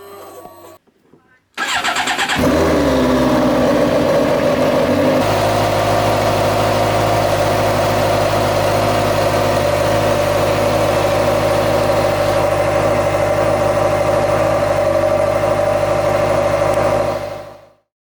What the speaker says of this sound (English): to change the oil on a GSXR 750, first things first, start the bike,